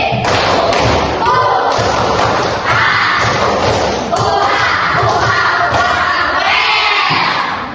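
A primary school class performs a rhythmic clapping chant: loud, repeated bursts of claps and thumps in a steady pattern, mixed with children's shouting voices.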